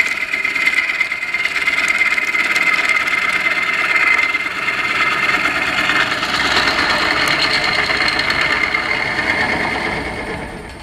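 Bowl gouge cutting a large wooden bowl spinning on a lathe, a steady continuous hiss and whir of shavings coming off the wood over the motor hum, with little vibration throughout.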